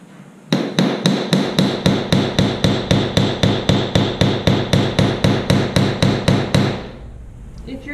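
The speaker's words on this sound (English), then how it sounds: "Next I'm going to use this flat-headed hammer, which is also called a goldsmith hammer" A flat-headed goldsmith hammer strikes jewellery metal about twenty-five times in a steady, fast rhythm, each blow a sharp, loud, ringing metallic tap close up, then stops.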